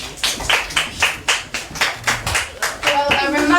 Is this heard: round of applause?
yes